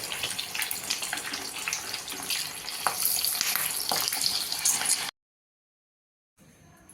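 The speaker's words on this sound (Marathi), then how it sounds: "कचोरी तळत असताना त्यामध्ये मी आता या दोन मिरच्या घालणार आहे त्यामध्ये कट केल्या आहेत त्याही आपण तळायला घालूया" Slit green chilies frying in hot oil alongside mini kachori, a dense continuous sizzle with crackles and pops, close and loud, cutting off abruptly into silence before a faint return.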